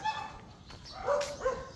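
Several dogs at a house bark and yip in short, scattered bursts, moderately near against a quiet background.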